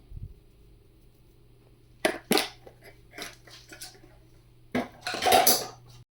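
A teaspoon of black pepper going into a chicken vegetable soup pot, with a few bright metallic clinks of a spoon against the pot, then a longer scraping clatter near the end, close and without speech.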